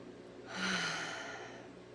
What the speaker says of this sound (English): I think we all need to take a breath